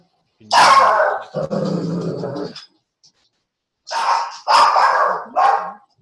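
A dog barks loudly and close indoors in a home, giving two bursts of rough, growly barks separated by a short silence, with no talk over them.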